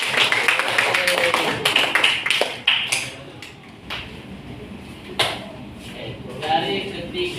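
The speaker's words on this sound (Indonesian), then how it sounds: "tepuk tangan untuk kawan yang sudah berdiri" Classroom students applauding a classmate who has stood up, sharp scattered claps for about three seconds that thin to sporadic taps and knocks, with voices murmuring in the room afterward.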